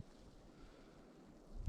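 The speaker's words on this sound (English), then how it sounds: "That gust, the wind." A gust of wind buffets the microphone outdoors during a rare Southern California snowstorm, a steady low rumbling roar that swells louder toward the end, with no talking.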